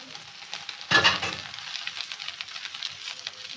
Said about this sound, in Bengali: এবার এর মধ্যে চাউমিনটা অ্যাড করে দেবো।